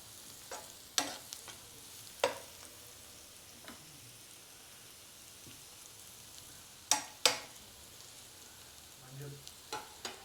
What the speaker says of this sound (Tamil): ஸோ முதல்ல வெங்காயத்தை பூண்டு எல்லாமே போட்டுடுங்க. அதுக்கப்புறம் சீரகம் போடுங்க.